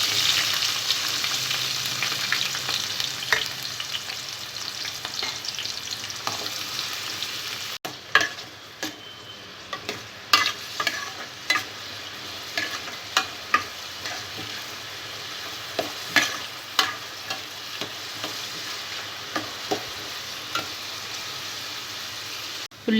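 Green chillies and onion pieces frying in hot oil in a pan for fish curry, a loud steady sizzle that quiets partway through, then repeated sharp clicks and scrapes of stirring over a softer crackle.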